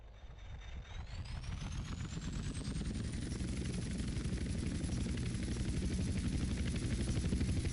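A slow helicopter in GTA San Andreas drones steadily with loud, rapid rotor chop and a rising whine as it spins up, continuous and close, with no talk.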